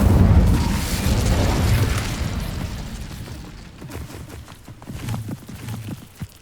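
Incendio fire spell cast in Hogwarts Legacy, a loud whooshing burst of flame that rumbles and fades over a few seconds, followed by quieter footsteps and thuds.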